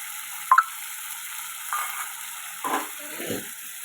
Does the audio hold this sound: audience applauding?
no